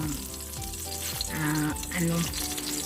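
Garlic, onion and tomato are sautéed in a pan for laing with taro, giving a steady loud frying sizzle with a few stirring scrapes and brief clinks, and no speech.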